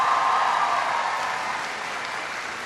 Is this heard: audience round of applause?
yes